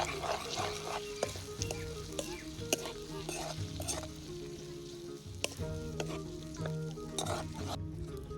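Yogurt being stirred into a spice mix for village-style dahi raita, with repeated sharp scrapes and knocks of a spoon against the vessel over a soft frying hiss, fairly quiet throughout.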